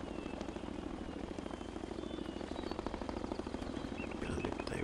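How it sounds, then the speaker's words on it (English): A helicopter's steady low rotor thrum fills the background of a Zoo Tycoon game on Xbox One, a continuous droning roar with faint birdsong and chatter scattered over it. "Helicopter just passing over"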